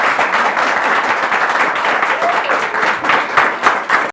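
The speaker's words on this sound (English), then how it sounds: "clap for them now" Audience applause at a television awards-style show, a dense burst of crowd clapping that holds steady and loud for about four seconds before cutting off abruptly.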